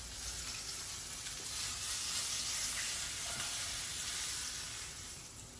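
Steak searing in a hot pan while being basted with butter gives a steady, close, loud sizzle and hiss that holds level throughout without a break, with no voices over it.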